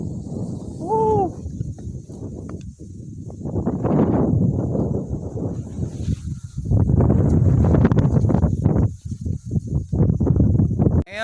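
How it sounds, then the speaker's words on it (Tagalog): Strong mountain wind buffets the microphone in heavy, uneven gusts that rise and fall throughout, with brief lulls between loud rumbling blasts and a short voice near the start. "Lakas ng hangin."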